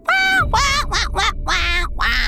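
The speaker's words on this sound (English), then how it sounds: "Rollie's quacks beckoned a coyote from the hideout." A cartoon duck quacks loudly and up close in a rapid series of about six nasal calls, with nothing else heard around them.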